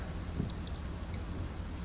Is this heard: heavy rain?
yes